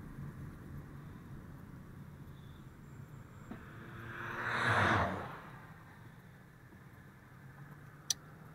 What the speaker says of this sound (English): Gray truck leaving the gas station as soon as I get here.